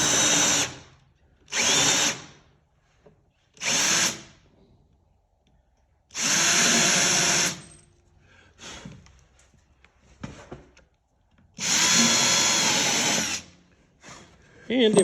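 Power drill countersinking bolt holes in wooden decking on an old RV trailer, several loud sustained bursts of a second or two each with pauses between, some quiet handling noise in the gaps.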